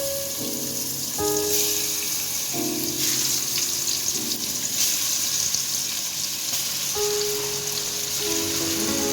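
Pangas fish sizzles in hot oil in a wok, a continuous hissing, spattering fry noise heard close throughout beneath background music, without talking.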